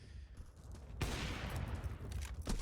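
Gunfire in a professional Counter-Strike match breaks out abruptly after a quieter stretch, a sudden loud burst of rapid overlapping shots that keeps going with a few sharper cracks.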